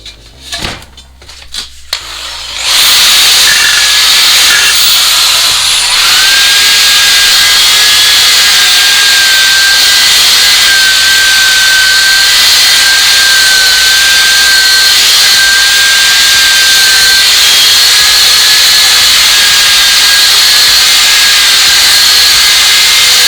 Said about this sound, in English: I'm going to run round it with the wire brush on the drill